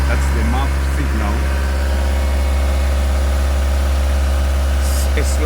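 A Ford Transit van engine idles with a steady, loud low hum and a constant vibration that runs the whole way through. A person talks over it now and then.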